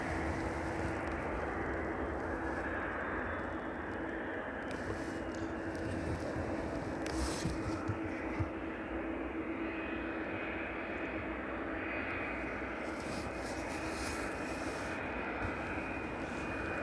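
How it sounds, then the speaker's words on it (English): Boeing 757 arriving from Reykjavik, landing on an airport runway, a sustained loud roar of reverse thrust that holds steady for a long stretch. "Just about to hear those reverse thrusters and spin around and catch that one. 757 in from Reykjavik this evening."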